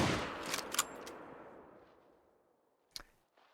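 A hunting rifle fired at a level 3 male animal in a Yukon trophy hunting game: one sharp, loud crack with a long rolling echo fading out, then a fainter second report near the end.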